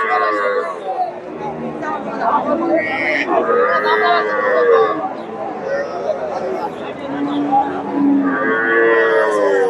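Cows lowing amid a busy cattle market in Bogura, Bangladesh, with crowd chatter and people talking throughout; the moos rise and fall over steady background hubbub.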